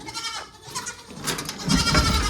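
A pet goat named Zeus bleats in a short burst near the end, loud and close, with stable sounds and a voice faint in the background.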